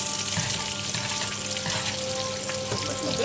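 Corned beef hash frying in a pan, giving a steady, dense sizzle with light crackling throughout and no talking.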